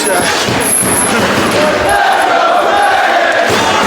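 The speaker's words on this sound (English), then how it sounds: "the crowd here in Manhattan urging him on" A wrestling crowd at a Ring of Honor show in Manhattan roars and cheers steadily throughout, a dense, sustained wall of noise with shouts and chanting voices mixed in.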